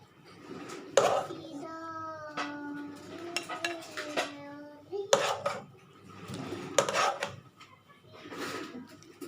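Chicken shahi korma being served out into a dish, metal utensils clinking and scraping against the pot in several bursts, with a tonal whistle-like sound in between, close and moderately loud.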